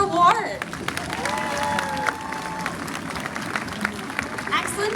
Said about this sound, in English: even your applause is a great big reinforcer, so can we give Colby another reward?